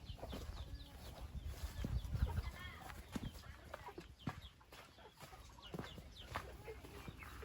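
Chickens clucking on a farm with bananas growing around, soft scattered clucks and rustling at a fairly faint level, with occasional low thumps in the background.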